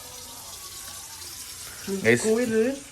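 Water runs from a pipe tap in a steady, soft stream, with a voice speaking briefly over it near the end.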